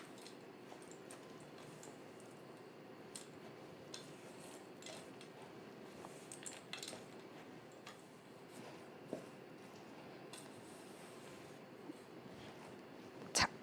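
Cookie dough mixed with nuts, oatmeal and chocolate chips is stirred by hand. The soft, close scraping and squishing goes on steadily, with a few small clicks, and no one speaks.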